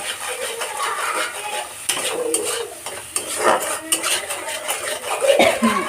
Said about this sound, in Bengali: আমি এখানে শুকনো লঙ্কার গুঁড়ো দিয়েছি, জিরে গুঁড়ো, ধনে গুঁড়ো দিয়েছি, হলুদ গুঁড়ো দিয়েছি আর লবণ দিয়েছি, দিয়ে একটু নেড়ে দিচ্ছি।